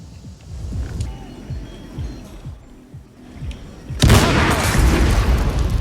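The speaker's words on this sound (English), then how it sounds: "There could be more explosions." An explosion in the video game Hitman 3 bursts in with a sudden loud, broad blast that sustains as a roaring rumble, preceded by quieter low thumping game sounds.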